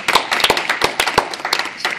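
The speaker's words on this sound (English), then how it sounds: "Let's give them a round of applause" Applause for a high school jazz band: a small audience claps in sharp, uneven bursts, close and fairly loud, the individual hand claps distinct rather than blended into a roar.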